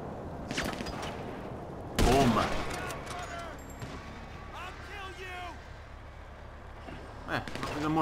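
Gunfire erupts in Grand Theft Auto V Online, a loud burst of shots followed by scattered fainter reports and crashes, with players talking over the action.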